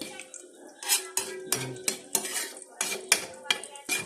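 Onions stirred in a frying pan for a fried egg, a utensil clinking and scraping against the pan in quick rhythmic strokes, close and clear.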